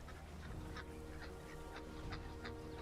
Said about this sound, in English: I thought the game was making goose squawking noises.